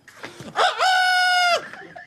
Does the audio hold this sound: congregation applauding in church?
no